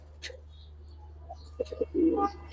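Giribaz high-flyer pigeons give a few soft, close coos with faint chirps over a low steady background hum.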